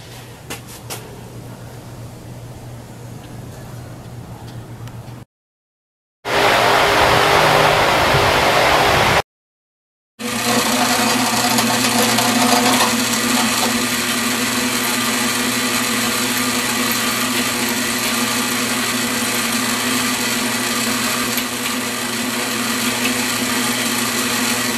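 A power drill bores holes through a steel plate for a homemade finger brake. The whine is loud and steady and close by, broken by two brief silent cuts. It runs on for a long stretch without any talk.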